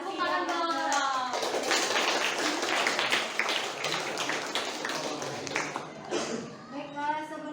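Hands clapping in a classroom presentation session, a steady burst of claps from a group lasting several seconds, with voices heard at the start and end.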